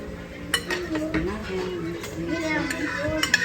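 Homemade fruit juice being stirred in a container with a utensil, close clinks and scraping knocks under people talking casually throughout.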